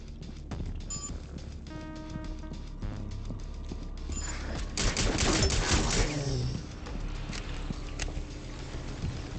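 Rapid bursts of gunfire fill a Rainbow Six Extraction video game match, loud and continuous over a droning game soundtrack, swelling mid-way with a dense barrage and no talking.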